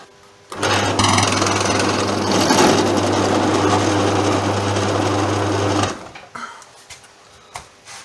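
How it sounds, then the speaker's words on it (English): A loud power drill whirs steadily for about five seconds drilling holes in a guitar body, then stops, leaving a few faint clicks and knocks. "Still a couple of holes to drill"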